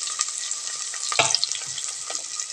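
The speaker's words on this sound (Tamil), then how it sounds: "இப்போ கரண்டி எடுத்து வதக்கு" Chopped onions sauté in oil in a pan for a spicy mutton kuzhambu, stirred with a ladle: a steady close sizzle with scraping strokes and one louder stir near the middle, no talking.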